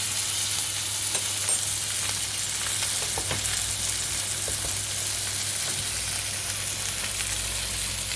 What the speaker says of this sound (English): I'm also going to fry on the edges after the one side is fried.